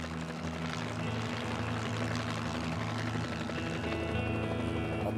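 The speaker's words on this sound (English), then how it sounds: "The helicopter could hover in one spot." A helicopter hovering in one spot, its rotor and engine producing a steady, fairly faint, layered hum with a continuous low throb, heard without speech.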